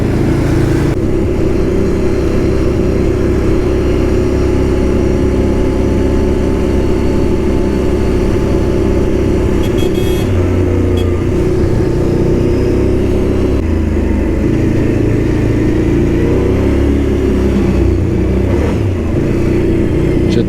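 A loud ATV engine drones steadily throughout with a low rumble and slight shifts in pitch, riding along at night through a forest without pause.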